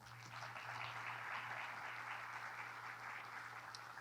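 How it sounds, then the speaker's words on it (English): Continuous round of applause from a forum audience at a sea level rise event, fairly faint and distant, with a low steady hum underneath. "One more round of applause for Julianne and Kate"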